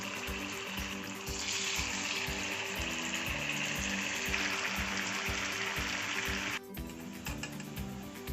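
Batter-dipped munthiri kothu balls deep-frying in hot oil, a loud steady sizzle and bubbling that runs throughout, close up, with a brief dip near the end.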